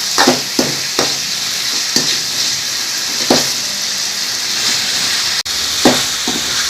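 Rock salt being sautéed for a crab gravy crackles in a hot pan, with a steady sizzling hiss and repeated sharp scraping strokes of a ladle at irregular intervals, close and fairly loud.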